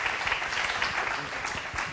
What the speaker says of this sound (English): please give a huge round of applause right now to Haley and Isis.